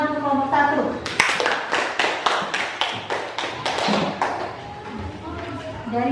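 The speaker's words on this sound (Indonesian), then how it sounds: "Tepuk tangan untuk kelompok 1." Classroom applause for a student group that has just presented, a run of sharp, fairly close hand claps in an uneven rhythm lasting several seconds, with a voice speaking in the room before and around the clapping.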